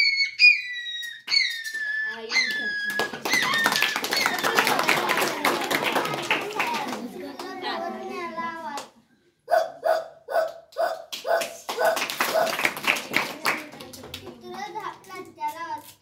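A young boy mimics a puppy with high squeaky yelps and whines, alternating bursts of rapid breathy panting-like noises, loud and close, with short pauses between the yips.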